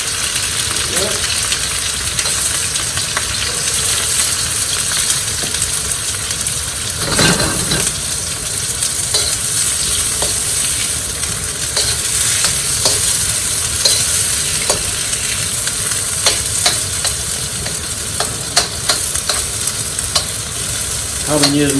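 Pieces of chicken for Hyderabadi chicken biryani fry in hot oil, giving a loud, continuous sizzle broken by occasional scraping stirs in the pan.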